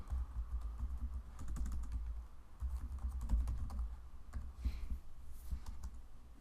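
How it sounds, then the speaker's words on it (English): Typing on a computer keyboard entering a text prompt into an AI image generator, with a steady stream of close, fast key clicks and uneven pauses, no voices. "Let's type architectonics."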